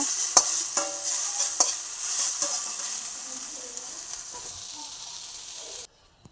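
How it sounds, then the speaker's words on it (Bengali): Kalmi greens (water spinach) sizzle steadily in a hot pan while a utensil scrapes and stirs them in repeated strokes, close and fairly quiet, tapering off before the sound stops abruptly. "কলমি শাক ভাজা"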